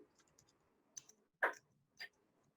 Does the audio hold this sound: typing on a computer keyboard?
yes